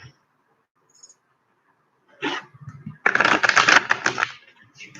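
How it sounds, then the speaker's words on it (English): A deck of cards is shuffled in a quick riffle, a dense, crisp flutter of card edges lasting about a second after a few softer handling sounds, close up and alone. "Just let me focus on the shuffling."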